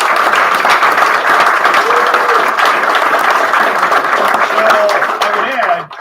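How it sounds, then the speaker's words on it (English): Loud, close crowd applause for a sheriff at a political gathering, dense continuous clapping with scattered voices mixed in, running for about six seconds before dropping off. "So he deserves a round of applause."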